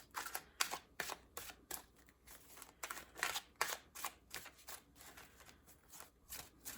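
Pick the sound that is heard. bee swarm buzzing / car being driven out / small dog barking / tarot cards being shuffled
tarot cards being shuffled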